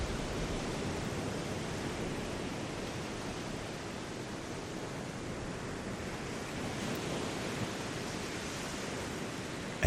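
Ocean waves roll onto a shore in a continuous, even wash of surf that holds steady throughout, soft and broad with no voices or distinct breaks.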